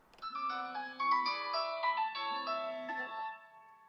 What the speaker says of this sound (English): So here I am calling my phone from a different device.